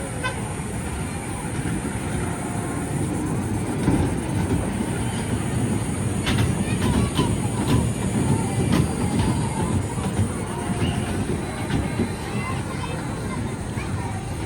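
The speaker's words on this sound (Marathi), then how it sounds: "हे या पार्कमधलं सगळ्यात मोठं आकर्षण आहे इथली टॉय ट्रेन" A toy train runs through Wonders Park in Nerul, Navi Mumbai, a steady rumble and clatter with a short toot, with a crowd murmuring around it and people talking nearby throughout.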